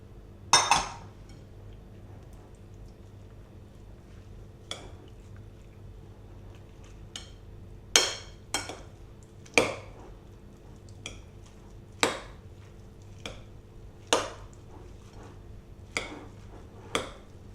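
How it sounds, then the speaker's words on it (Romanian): Utensil clinking against a bowl while noodles are mixed with eggs and sour cream, a series of sharp, separate taps at irregular intervals over a quiet background. "Amestecăm fideaua cu ouăle"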